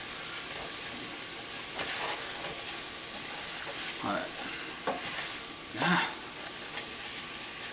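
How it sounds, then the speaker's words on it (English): Tofu stir fry sizzling and hissing in a hot pan as pineapple juice is added to deglaze it, with bursts of steam and stirring scrapes over a steady fry, while a voice speaks briefly. "The pineapple juice really helps you deglaze this pan."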